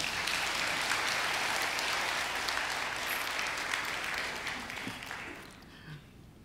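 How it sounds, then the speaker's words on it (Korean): A church congregation gives its pastor a big round of applause, a broad, steady roar of many hands that holds for several seconds and then thins and fades out near the end. "자, 우리 큰 박수로 우리 목사님 축복합니다"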